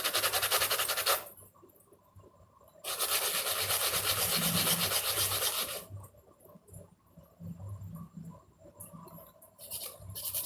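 A brush scrubs back and forth against the end of a wooden ball joint on an antique jointed doll, with gesso being applied, giving close, dry rubbing strokes in bursts separated by brief pauses.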